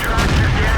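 A Type T-34 tank cannon fires in World of Tanks, a loud, dense boom that rolls on as a sustained rumble through the whole brief moment, with faint talk beneath.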